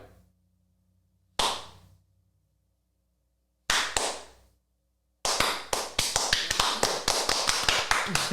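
A person imitates a hesitant clap, acting out Prince Aegon's applause from House of the Dragon. Two slow, isolated claps ring out close and sharp, then a rapid burst of quicker claps follows, with no talking.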